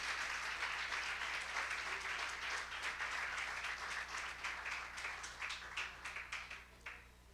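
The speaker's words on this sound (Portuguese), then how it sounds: "Você pode aplaudir ao Senhor, hein?" Church congregation applauding during a worship service, dense steady clapping that fills the space and then thins into scattered claps toward the end.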